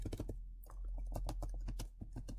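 Someone types on a computer keyboard while debugging code, a quiet run of close, crisp key taps in an uneven rhythm with a brief pause near the start.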